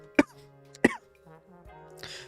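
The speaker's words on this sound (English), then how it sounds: "I'm coughing my arm off." Two sharp, loud coughs from a person, spaced about half a second apart, followed by a softer throat sound and a brief breathy exhale at the end.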